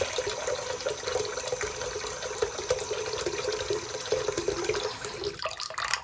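Water running steadily from a home faucet into a sink, a continuous close splashing hiss with a gurgling undertone, unbroken throughout.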